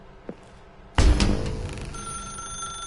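A telephone rings in The Stanley Parable Ultra Deluxe: a sudden loud ringing burst after a second of near-quiet, then a lingering tonal ring that slowly fades.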